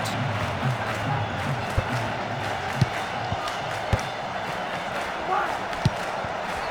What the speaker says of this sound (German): Hören Sie da die Zuschauerreaktion. Die Fans sind alles andere als zufrieden.